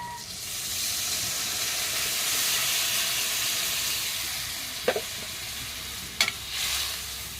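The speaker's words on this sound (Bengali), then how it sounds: "এখন এর ভিতরে আমি কিছুটা জল দিয়ে দেবো।" Fish curry made with parshe fish sizzling and hissing loudly in a pan as water is added, a continuous steamy fizz with a couple of brief clinks near the end.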